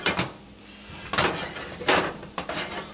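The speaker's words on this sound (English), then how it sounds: "Continually stirring while you're adding your flour." Flour being stirred into a thick roux for seafood bisque, a utensil repeatedly scraping and knocking against a metal pot in uneven strokes, close and fairly loud, with no talking.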